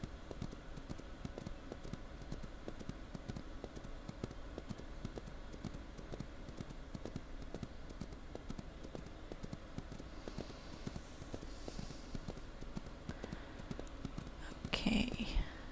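Horse hooves clip-clop in a steady, quick rhythm in the video game Ranch of Rivershine, faint under soft whispered talk, with a brief louder burst near the end.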